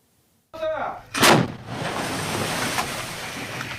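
A Ukrainian artillery unit fires on the eastern front line: one heavy, close blast that booms, then rolls into a long, rumbling echo, just after a brief voice.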